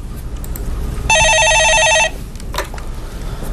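A telephone ringing on a stock-market call-in show, one electronic ring lasting about a second, loud and clear over a quiet studio background.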